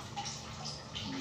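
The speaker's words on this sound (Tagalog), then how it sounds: "kapatak ang tulo ng tubig" A few faint, scattered water drips plink in a small restroom during cleaning, quiet and sparse against low background hiss.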